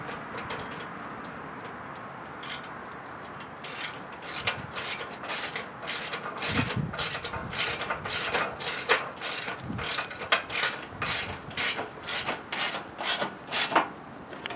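A hand ratchet snugs down 10 mm bolts while a live axle is installed on a Craftsman tractor being converted into a go-kart. After a quiet start, rapid close clicking runs in quick strokes, with a couple of heavier knocks among them.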